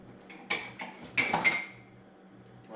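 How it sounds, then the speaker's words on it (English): Potato masher working vegetarian chili in a pot, heard as a few sharp metallic clinks and knocks against the pot, spaced irregularly over a quiet background. "if you don't have a blender, you can use a potato masher."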